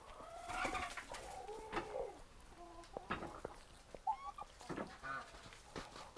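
A turkey calls on a rural mountain homestead, a series of faint, scattered gobbling and clucking notes with quiet background sounds between them.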